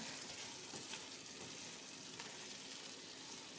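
Meat and potatoes cook in a pan seasoned with cumin, giving a steady, soft, close sizzle that holds evenly throughout with no voices.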